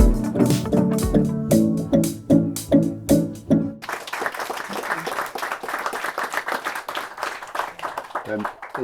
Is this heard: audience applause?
yes